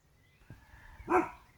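Bilbo, a pet dog, lets out a single sharp bark outdoors after a softer yelp, fairly close and loud.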